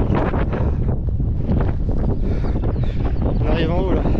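Strong, cold wind buffets the microphone in a constant dense roar during a high mountain ultra trail race near 2400 metres, with no pauses and a faint higher whistle near the end.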